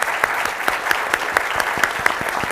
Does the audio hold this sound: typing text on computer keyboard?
no